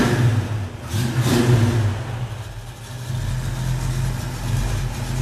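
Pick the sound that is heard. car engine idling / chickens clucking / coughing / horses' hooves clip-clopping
car engine idling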